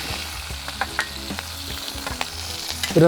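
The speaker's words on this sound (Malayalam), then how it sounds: "2 സ്പൂൺ വെളിച്ചെണ്ണയും കൂടെ ചേർത്തിട്ട് കുറച്ച് കടുക് ഇട്ടു" Mustard seeds crackle and sizzle in two spoons of hot coconut oil in a pan for a Kerala kappa biryani, with a steady frying hiss and scattered sharp pops.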